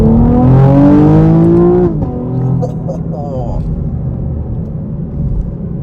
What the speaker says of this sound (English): We'll do like the first gear pull once we're situated on the gas.